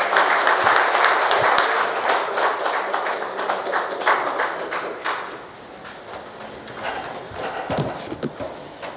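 An audience at a novel launch event claps, a dense burst of applause that thins out over several seconds into scattered individual claps.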